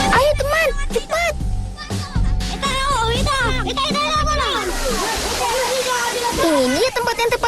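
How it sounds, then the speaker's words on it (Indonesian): Water pours steadily at the Saprona Pitu waterfall in Huta Ginjang village on Samosir Island, Lake Toba, a continuous broadband rush beneath close, lively children's voices talking and calling throughout. "Namanya air terjun Saprona Pitu."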